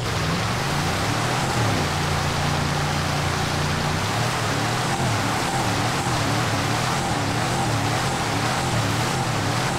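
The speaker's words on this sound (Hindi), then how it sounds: "बढ़िया चल रही है गाड़ी" A Mahindra XUV 500 engine drones steadily as the SUV drives through a river in GTA 5, mixed with continuous water rush and splashing, loud and unbroken with no talk.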